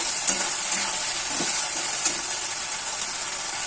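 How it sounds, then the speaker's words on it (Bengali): A spice paste with tomato pieces fries in a pan with a constant loud sizzle, and light stirring scrapes rise now and then above the hiss. "আর একটা টমেটোকে 4 ফালি করে রেখেছিলাম, এটা দিয়ে দিলাম। মশলাটাকে ভালো করে কষিয়ে নেব।"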